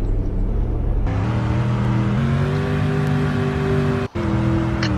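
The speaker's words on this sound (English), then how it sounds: "this car engine sound sounds like the boat from GTA 4" A Mustang's engine drones steadily in the Roblox Greenville video game, its pitch stepping up in stages as it accelerates through the gears, with a brief dropout near the end.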